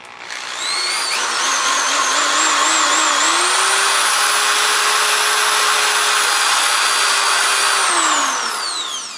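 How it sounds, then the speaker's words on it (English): A power drill whines steadily into a Merr-Sonn Power 5 blaster kit part, its motor ramping up, holding a high, loud pitch for several seconds, then winding down. "If I don't hit center just perfect, I can adjust while I'm drilling."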